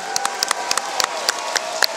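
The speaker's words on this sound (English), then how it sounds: "both men deserve applause right now" Crowd at a professional boxing event applauding a close fight's decision, a steady wash of clapping with sharper individual claps standing out, fairly loud and sustained.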